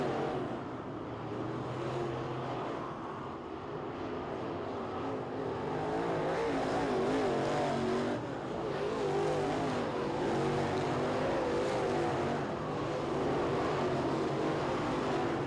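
Race cars lapping a track at a winter nationals night race, engines roaring and droning at a distance in a continuous wash of sound that swells and fades slightly as the cars circle.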